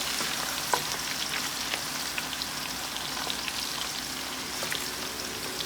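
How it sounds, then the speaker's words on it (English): Blended onion frying in palm oil for egusi soup, a steady close crackling sizzle with scattered small pops and spits throughout, no voices. "I have my oil in here and my blended onion"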